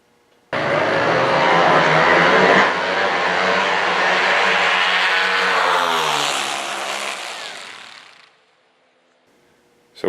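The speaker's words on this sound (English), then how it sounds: "pro stock bikes. And some pro stock Harleys." A loud engine roar from a pro stock drag racing motorcycle or Harley at Lucas Oil Raceway, rising abruptly and holding steady for several seconds before fading away.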